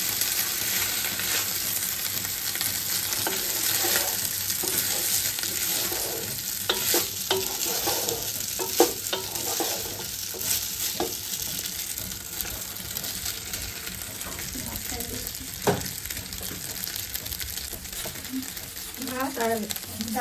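Cooked rice poured into hot oil and stirred for instant khichuri, seasoned with white pepper: a steady broadband sizzle with repeated scraping and clinking stirring strokes throughout, moderately loud and close.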